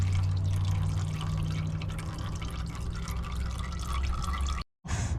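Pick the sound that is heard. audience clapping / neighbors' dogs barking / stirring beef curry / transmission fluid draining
transmission fluid draining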